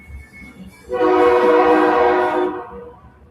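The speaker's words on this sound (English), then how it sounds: "here comes the train now" A live-steam locomotive horn sounds loudly and steadily for about a second and a half, a sustained multi-tone blast that rises suddenly and fades.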